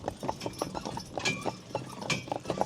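Hooves of a matched team of gray Percheron draft horse mares clip-clopping in an irregular, fairly quiet rhythm of overlapping steps, heard close with no talk.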